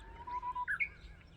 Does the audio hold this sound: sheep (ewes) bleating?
no